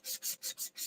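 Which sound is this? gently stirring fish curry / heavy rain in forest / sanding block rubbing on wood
sanding block rubbing on wood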